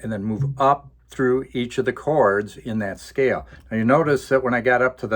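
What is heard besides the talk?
No distinct noise like a dog, phone or traffic.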